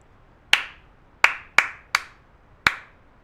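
A short rhythmic pattern of five crisp hand claps, spaced unevenly, rings out close by with fast decays and quiet gaps between them.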